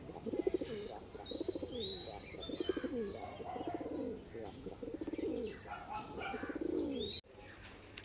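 Female pigeon cooing up close in repeated throaty rolling phrases, with faint chirps and light rustling among other pigeons in a loft; a brief cut near the end.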